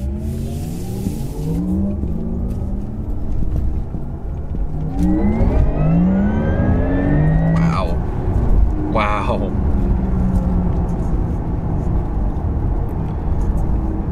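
Porsche Taycan electric car accelerating with its synthetic driving sound, a rising whirring tone that swells over steady road and cabin rumble, people talking inside the car throughout.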